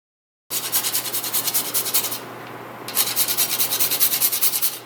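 Whole nutmeg grated on a microplane for pumpkin muffins, a close, steady run of rapid rasping strokes with a brief pause midway before the scraping resumes.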